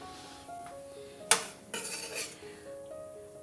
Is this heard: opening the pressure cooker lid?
yes